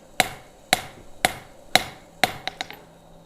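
A hammer strikes steel with full-face blows during forging, five evenly spaced ringing hits followed by a quick cluster of lighter taps, close and sharp with no talking.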